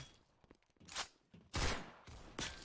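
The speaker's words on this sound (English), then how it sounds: "Brady getting a shotgun kill." Shotgun blasts in Counter-Strike, a few loud broadband bursts spaced about a second apart amid quieter game noise and footsteps, no talk.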